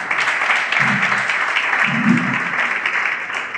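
An audience at an African documentary-style show claps together in a steady, busy burst of applause, with a few low voices mixed into the crowd noise throughout.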